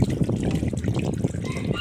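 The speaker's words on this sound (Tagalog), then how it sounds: "Tsaka ko itatapat sa gripo." Tap water runs over a bugiw fish being scrubbed clean under the faucet, a continuous close splashing trickle with uneven small surges.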